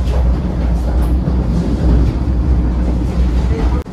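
Heard from inside a Vande Bharat express between Howrah and Bhagalpur, a loud steady low rumble of the train picking up speed, with a sharp knock near the end.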